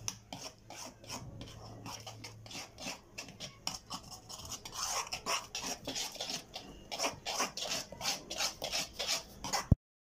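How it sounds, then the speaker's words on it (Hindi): Spices being mixed in a bowl for chicken malai karahi, heard as repeated scraping and rubbing strokes in a steady rhythm that grow louder and busier halfway through, no one talking. "अब हम लोग अच्छे तरीके से मिक्स कर लेंगे"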